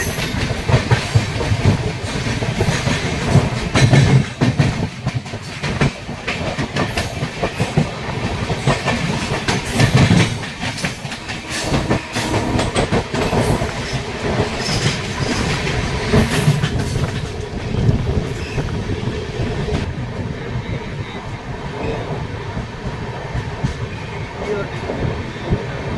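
The Bhubaneswar-Howrah Jan Shatabdi Express pulls out of Bhadrak station, heard from on board with steady rolling rumble, hiss and rhythmic clickety-clack of wheels over rail joints, loud and continuous throughout.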